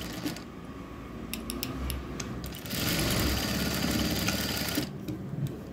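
Sewing machine stitching along a fold of cloth, a steady mechanical whir that surges louder and faster midway, then slows again, alone without talk.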